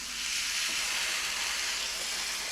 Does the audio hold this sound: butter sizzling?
yes